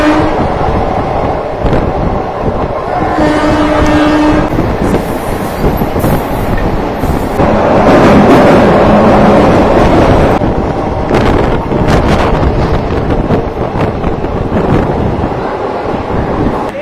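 An express train from Kolkata to Digha rolls along, with loud continuous wheel and carriage rumble, wind buffeting the microphone, and a brief tonal whine partway through.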